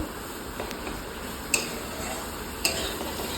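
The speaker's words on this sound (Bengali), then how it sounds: "এবার আমি এখানে দিয়ে দিলাম জিরে গুঁড়ো আর লাল মির্চ গুঁড়ো। এটাকে আমি এখন ভালো করে কষিয়ে নেব একটু" Ground cumin and red chili powder being fried and stirred in a pan for an egg curry: a faint low sizzle under two or three sharp spoon clicks against the pan, close but quiet.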